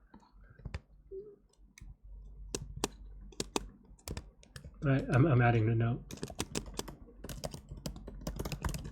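Computer keyboard keys click in quick, irregular bursts while someone works through a coding problem, close and distinct, with a brief spoken comment partway through.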